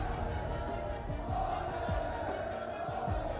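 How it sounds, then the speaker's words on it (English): A large esports arena crowd during a Dota 2 match between Tundra and BetBoom makes a steady, loud roar of mixed cheering and shouting as players walk on stage, a dense wash of voices throughout. "Our players are walking out on stage. There are mixed reactions within the crowd."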